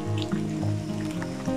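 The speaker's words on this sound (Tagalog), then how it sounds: "umuulan po." Rain drips in a sugarcane field, a close run of soft, irregular drops and plinks over a low steady background, with no voices.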